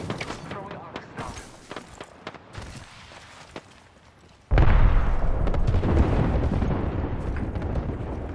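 An Arc Star grenade detonating in Apex Legends, a loud sustained crackling electrical blast erupting midway and rumbling on to the end, preceded by footsteps and gunfire clicks.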